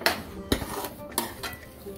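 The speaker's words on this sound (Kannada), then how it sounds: "ಈಗ ಅದು ಒಳ್ಳೆ ಮಿಕ್ಸ್ ಮಾಡಿ." A spoon stirs ghee into kesari bath in a metal pan, giving a few sharp scraping clinks spaced about half a second apart, with softer rubbing between them, close up and without talk.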